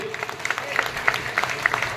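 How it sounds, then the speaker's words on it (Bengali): An audience at a blood donation camp in Hooghly claps together to welcome MP Rachna Banerjee, a short burst of rhythmic applause with a voice heard over it. "একবার সকলে মিলে জোরে করতালি দিয়ে"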